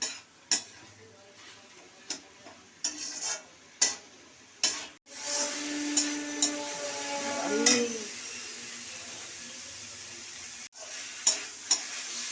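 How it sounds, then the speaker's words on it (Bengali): Snake gourd with grated coconut and poppy seed stirred in a pan to dry off its water, sharp scrapes and clacks of a spatula at the start, then a steady soft sizzle with occasional knocks, close by. "একটু নেড়ে ছেড়ে জলটাকে মরিয়ে নিতে হবে।"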